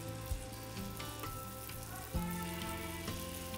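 Batter sizzles and fries in an oiled appe pan, a continuous crackling hiss with a brief louder flare partway through, close and clear with no talking.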